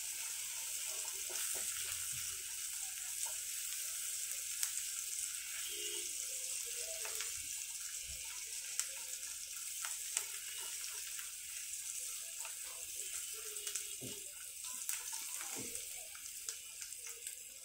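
Onions frying with salt in a pan, giving a steady, moderately quiet sizzle and crackle with occasional soft clinks and scrapes over the top.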